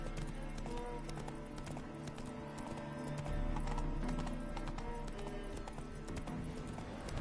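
Hooves of Roach, Geralt's horse in the video game The Witcher 3, clip-clop at a steady galloping rhythm with a whinny mixed in, continuous and fairly close throughout.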